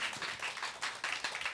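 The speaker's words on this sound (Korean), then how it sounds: "우리 박수로 다시 한번" A church congregation gives a brief round of applause, a quiet, dense patter of many hands clapping at a distance, rising and falling in small bursts.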